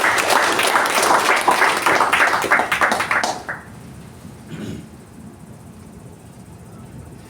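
Audience applause at a Toastmasters club installation ceremony, dense clapping for about three and a half seconds that then breaks off into quieter room noise.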